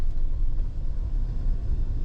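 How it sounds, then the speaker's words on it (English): A vehicle engine rumbles steadily up close, a low idling drone with no voices. "pulling in off the 4-lane, and I'm going to pull up here to the shop"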